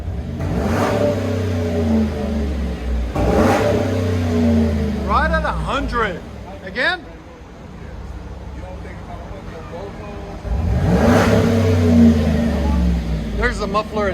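2009 Chevy Silverado 5.3L V8 with a Flowmaster Super 10 exhaust, original muffler and tailpipe cut off, revving hard in three loud roaring bursts that fall back to a rumbling idle, with someone speaking between the revs.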